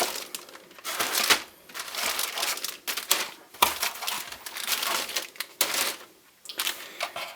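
Plastic bags holding model kit parts crinkle and rustle close by in repeated bursts, handled and crumpled with short gaps between the noisy stretches.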